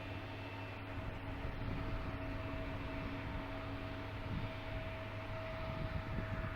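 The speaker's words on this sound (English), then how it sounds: "we got a JetBlue heading out" A JetBlue airliner departs an airport, heard as a distant, steady low engine roar over a broad rumble with no talking.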